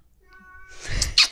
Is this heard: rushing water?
no